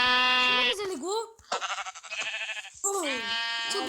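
Minecraft sheep bleat loudly twice in the video game, with a burst of excited talking between the two calls.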